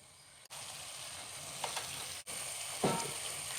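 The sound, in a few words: spices sautéing with salt and turmeric in a pan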